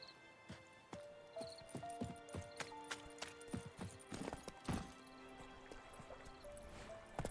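Horse hooves in The Witcher 3 clip-clop in a steady rhythm, with a brief whinny and game ambience, without talk.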